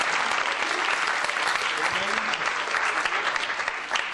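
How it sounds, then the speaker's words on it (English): A theatre audience applauds a volunteer coming onstage at a mind-reading show, with steady, dense clapping from many hands, loud and sustained throughout. "A nice round of applause for the good gentleman."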